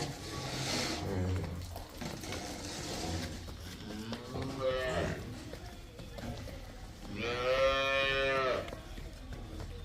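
A young female calf moos several times on a dairy farm, with a loud drawn-out call near the end, while people talk nearby.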